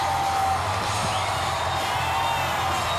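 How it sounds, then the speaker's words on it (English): A constant, steady roar of a cheering crowd at the Houston Astros World Series victory parade, dense and unbroken throughout with no distinct voices standing out. "listen to the crowds"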